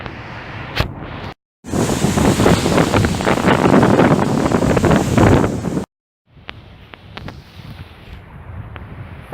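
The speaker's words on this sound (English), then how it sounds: "we are at Port Royal Beach" Wind and surf at Port Royal Beach, a broad roaring rush of waves and gusts buffeting the microphone, cutting off abruptly, then a quieter stretch of distant wash with a few faint knocks.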